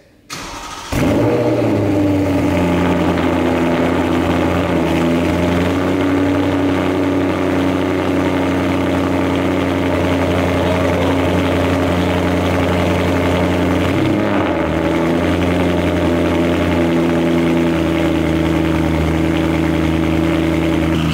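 A BMW M3 engine cranks and fires up on a cold start, then settles into a loud, steady idle with a low drone that dips briefly before holding steady.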